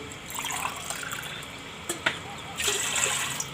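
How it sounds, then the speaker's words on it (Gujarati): Water is poured into a pot of boiled moong for soup, a soft steady trickle rising into splashy bursts near the end. "તો 4 ગ્લાસ આપણે એમાં પાણી નાખી દેવું"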